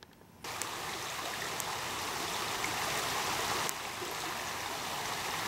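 Frog Creek flowing during rain, with an even, soft rush of stream water and a faint hiss of rainfall, steady after a brief quiet opening.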